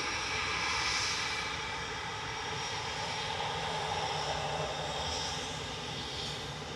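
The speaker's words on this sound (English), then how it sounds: "Touching down on 23 right is Ryanair 3837 from Mahon." A Ryanair jet airliner lands on runway 23 right, its engines giving a continuous, moderately distant roar with a broad hiss that swells slightly near the start and then holds steady.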